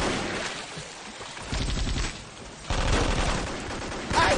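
Automatic gunfire in the 2003 Vietnam-era shooter Vietcong, heard in three loud sustained bursts of rapid rattling shots separated by brief lulls, the last burst starting near the end.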